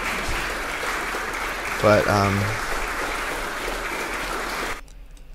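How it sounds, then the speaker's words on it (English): Applause rings out as a continuous wash of clapping that carries on steadily, with a voice briefly speaking over it midway, then cuts off abruptly just before the end. "Everyone clap."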